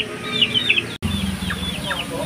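Native crossbreed chickens clucking and chattering at feeding time outdoors, several birds close by, with brief sharp calls over a steady background.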